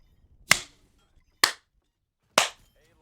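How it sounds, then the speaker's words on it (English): Three separate sharp hand claps, evenly spaced about a second apart, loud and close against a quiet background. "That's me clapping."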